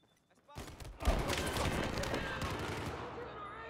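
Sustained automatic gunfire roars in a Battlefield 4 match after a quiet moment, a dense, continuous clatter of shots that stays loud until the end.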